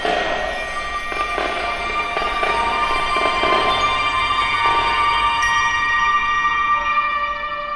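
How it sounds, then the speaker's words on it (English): Bell sets ring out in an indoor percussion ensemble show, bright sustained metallic tones layered over a dense, loud wash of ensemble sound with occasional struck accents. "The show does start with some bell sets and kind of some call and response between bell sets and snare"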